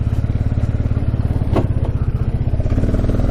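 An old ATV in need of carburetor work idles with a rapid, steady engine putter up close as it begins to move, with a brief rattle partway through.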